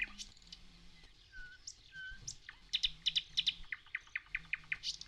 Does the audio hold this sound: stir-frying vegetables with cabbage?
no